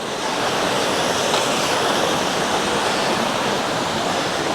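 A waterfall in the forest of Minoo Park pours in a steady, dense broadband rush, constant and fairly loud throughout with no break or voices.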